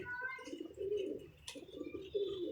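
Several pigeons coo in a low, repeated, throaty rhythm close by on a rooftop loft, with a brief sharp rustle or flap in the middle and no talk.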